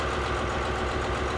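A flooded three-cylinder Lister boat engine idles at a steady, even low throb, close and continuous with no voices.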